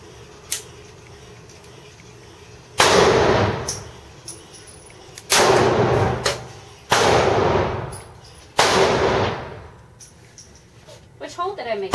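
Four loud, sharp gunshots at an indoor shooting range, spaced a few seconds apart, each leaving a short ringing tail, with quiet talk between them.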